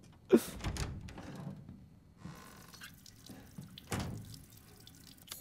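Wet splashes as a wedding ring is washed in water in Resident Evil 8: a sharp splash opens, followed by trickling and dripping, then a second splash burst near the end, all fairly close and without talk.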